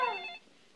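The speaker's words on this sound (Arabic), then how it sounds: "أنا اللي هرد على التليفون" A telephone gives one short, bright ring, close and clear, that cuts off and leaves a quiet room tone, with no voices.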